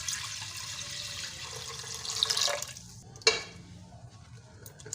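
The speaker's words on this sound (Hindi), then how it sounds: "2 गिलास हम इसमें पानी डालेंगे।" Water pours steadily into a metal pressure cooker on the stove, a rushing splashy stream that ends abruptly, followed by a sharp clink and quiet room noise.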